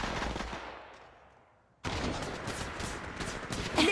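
Rapid automatic gunfire in Apex Legends Mobile, played on a Xiaomi Redmi 10: a sustained burst fades out, then after a brief gap a new loud, close volley of rattling shots carries to the end.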